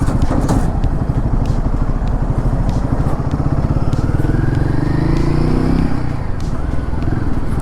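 A Royal Enfield Guerrilla 450 motorcycle runs loud and close while being ridden, its engine droning steadily throughout, with a rising pitch sweep as it accelerates.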